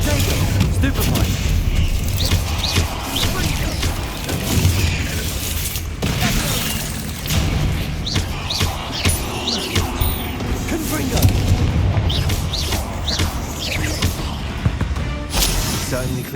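Spell blasts and shield impacts during a wizard duel in Hogwarts Legacy, a dense stream of booms, cracks and shattering hits that continues throughout, with voices talking over the fighting.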